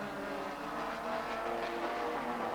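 Group N race cars of the 1991 Stannic championship roar past at Kyalami circuit in South Africa, a steady loud wash of engine noise with no break in the sound.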